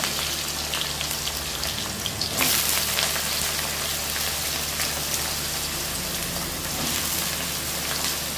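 Potato and eggplant pieces fry in hot oil with tempered spices, giving a continuous dense, rain-like sizzle that stays loud and even, with no talking.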